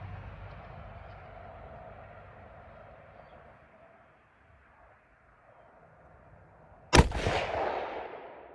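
A single sharp, loud rifle shot from a Bergara Wilderness Sierra firing Remington Core-Lokt 150gr ammunition rings out outdoors after quiet ambient noise, followed by a rolling echo that fades away.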